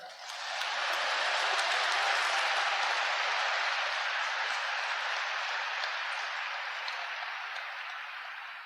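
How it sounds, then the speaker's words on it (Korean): Sustained audience applause at a church dedication ceremony in a large hall, a dense wash of many hands clapping that swells in and slowly tapers, distant and even. "박수 치세요"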